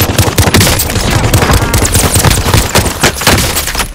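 Dense, rapid gunfire fills Call of Duty Warzone combat, with automatic bursts and overlapping shots sounding loud and close, with no pauses.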